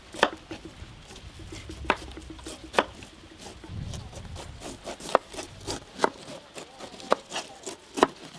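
A knife chops through a pineapple on a board, sharp irregular thuds and clicks spaced out over several seconds with quiet background noise.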